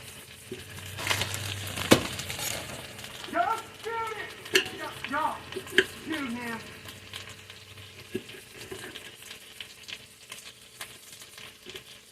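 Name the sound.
butter melting and sizzling in a hot skillet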